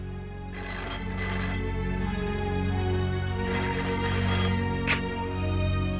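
A telephone rings in two bursts of trilling bells with a pause between, loud and close, no voices.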